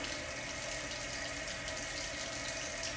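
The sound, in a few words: water running while rinsing lasagna noodles in sink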